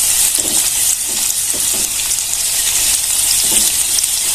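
Sliced bitter gourd fries loudly and crisply in hot oil, a dense, continuous sizzle with soft stirring movements beneath it.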